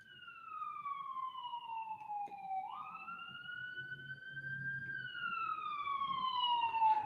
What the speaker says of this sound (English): I hear the police sirens.